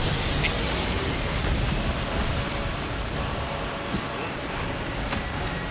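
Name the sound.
rain in a video game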